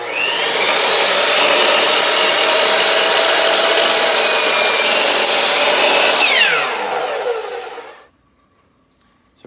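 A power saw cuts through the ends of 42-inch wooden boards with a loud, continuous whine that fades and stops, leaving near silence.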